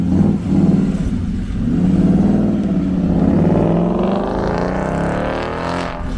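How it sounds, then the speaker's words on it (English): A shouty Ford Mustang at a motor museum revs loudly up close. The deep engine roar swells and climbs in pitch over several seconds, then eases slightly as it holds. "Oh, we're hearing, it's the shouty Mustang."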